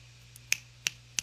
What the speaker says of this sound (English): That's how I clap. I snap.